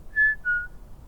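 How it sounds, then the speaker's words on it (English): A person whistles outdoors at a former colliery site, two short clear notes, the second slightly lower, fairly distant over quiet background. "There is somebody whistling over there"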